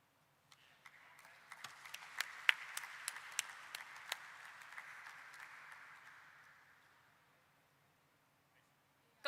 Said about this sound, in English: Please give them a round of applause, everyone.